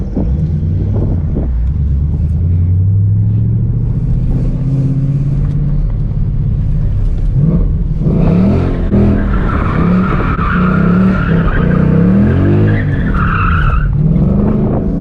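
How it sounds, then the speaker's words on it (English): A car does donuts, its tires skidding and squealing in long continuous sweeps as the engine revs and drones, loud and steady throughout with no talking. "What are these dudes doing? They're doing donuts?"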